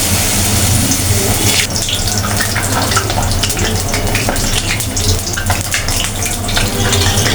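Water lily (shapla) fritters frying in hot oil, a loud continuous crackling sizzle with dense bubbling pops that runs the whole time, growing busier after the pieces go in.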